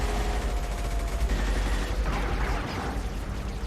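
Rapid gunfire and fusillade in the shooter game Mass Effect 2, a dense, loud barrage of shots sustained throughout without pauses.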